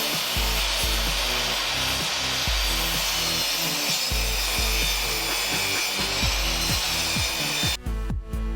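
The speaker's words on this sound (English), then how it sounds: "I'll take it over to the table saw and cut it" A table saw rips through a cedar board, its steady loud whine and harsh cutting noise running continuously close up, with a low motor hum underneath, cutting off abruptly near the end.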